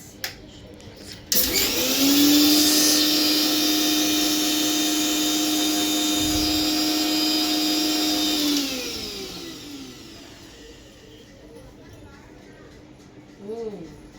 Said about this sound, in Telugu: మా అక్క మిక్సీ వేస్తుంది చూడండి ఫ్రెండ్స్